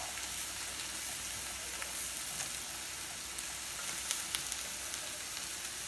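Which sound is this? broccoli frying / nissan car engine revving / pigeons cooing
broccoli frying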